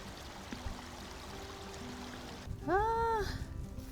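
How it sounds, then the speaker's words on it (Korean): Seongmuncheon stream flows gently through the Suanbo hot spring village. It makes a quiet, steady rush of water, and a brief voice rises over it near the end. "아이고 물소리 좋다."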